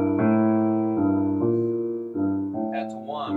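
Piano playing a 12-bar blues left-hand groove, repeated bass notes in steady rhythm with a comping chord struck once per cycle, clear and close, with brighter upper chords near the end.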